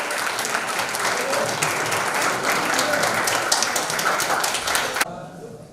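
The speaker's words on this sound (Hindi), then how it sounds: "तो जोरदार तालियां होनी चाहिए" Vigorous, continuous applause from a crowd at a company event, loud and even for about five seconds before cutting off abruptly into quiet room tone.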